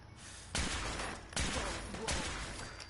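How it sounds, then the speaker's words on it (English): Fallout 4 turret gunfire, three sharp loud bursts at roughly regular intervals, each followed by a short ringing tail, with a low rumble underneath and no speech over the shots. "Guessing that's a turret up ahead."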